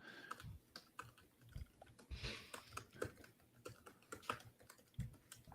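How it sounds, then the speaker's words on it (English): Rapid, uneven key clatter from someone typing a reply on a computer keyboard, with close, sharp clicks running steadily throughout. "I'm in the middle of typing a reply to someone"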